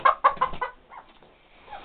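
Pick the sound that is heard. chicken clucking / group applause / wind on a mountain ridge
chicken clucking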